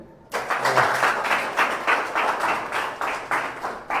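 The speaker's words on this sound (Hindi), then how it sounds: "आप सभी के लिए जोरदार तालियां से" A church congregation breaks into applause at a Sunday evening prayer service, starting abruptly after a brief quiet moment and continuing as rhythmic, fairly loud clapping that pulses in steady waves.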